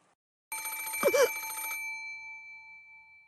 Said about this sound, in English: There was a phone on the bedside table across from the one with the doll, and it was ringing noisily.